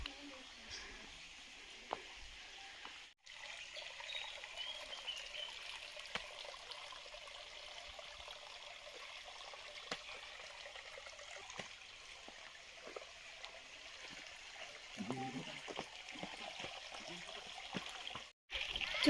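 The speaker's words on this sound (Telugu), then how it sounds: "ఈ వాటర్ సౌండ్ కానీ చాలా ప్యూర్గా అనిపిస్తున్నాయి కదా" A hill stream in the Ananthagiri hills near an old temple trail, running as a quiet, continuous trickle and wash of water heard at moderate distance.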